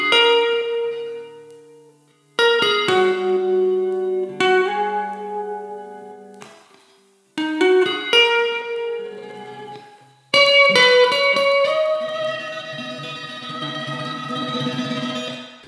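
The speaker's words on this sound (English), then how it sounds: "I then picked up my guitar again and just freestyled on the fretboard until I came up with a melody that sounds" Freestyled guitar melody for an R&B beat, clean sustained notes and chords in phrases separated by short pauses, ringing and decaying, ending in a fuller strummed passage, no talk.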